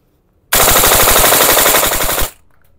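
A VFC SR16 MOD2 airsoft rifle fires a single sustained full-auto burst of just under two seconds, a loud, rapid, even rattle of shots that cuts off abruptly, with no talking.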